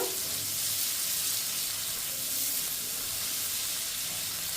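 Capsicum frying in oil in a pan for chilli dolma: a steady, close hiss and sizzle running throughout at an even level, with no talk.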